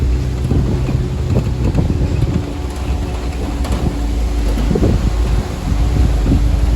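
Strong wind buffeting the microphone outdoors at the Tulimán waterfalls in Puebla, Mexico, a loud, constant low rumble with gusty bursts and no talking.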